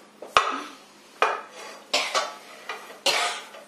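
Marshmallow mixture melted in a pot on a low stove, stirred with a utensil: four distinct close scraping strokes with clinks against the pot, roughly evenly spaced and fairly faint.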